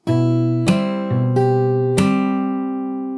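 Fingerstyle guitar plucks the opening phrase of a song, with four clear note onsets ringing into one another and sustaining cleanly at close range, with no voices.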